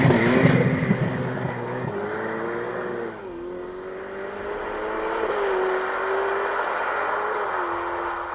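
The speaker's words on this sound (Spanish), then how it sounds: "la pureza de un V8 dando lo mejor de sí mismo a 8000 vueltas" The V8 in a Ferrari F8 Spider howls at high revs, a steady, strained engine note that climbs and dips through several throttle changes, moderately loud and heard alone.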